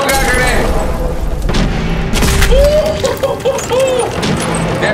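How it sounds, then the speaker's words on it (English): Loud explosions and gunfire in Fallout 4, heavy booming blasts with a strong thump around the middle amid continuous firing, close and dense, with a voice talking over the action. "grenade!"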